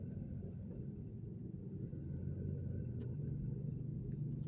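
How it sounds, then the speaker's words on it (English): A car driving down a street in Lebanon, Indiana, heard from inside as a steady low engine and road rumble that rises slightly partway through, with no talking. "Right now I'm driving down Drake Streets"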